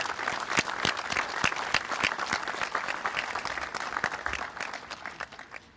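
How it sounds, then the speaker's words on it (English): An audience gives a round of applause at a police force launch event, a sustained crowd of clapping hands that carries on steadily, then thins and fades toward the end. "I just want to give you a round of applause"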